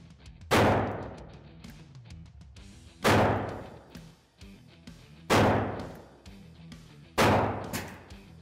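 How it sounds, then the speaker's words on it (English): Ruger Blackhawk revolver test fired outdoors after a trigger job: four sharp, loud shots spaced about two seconds apart, each decaying quickly, with no talking. "we'll go out and test fire it, make sure it fires all six cylinders"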